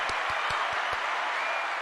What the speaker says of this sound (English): Round of applause for Adobo and Leonard.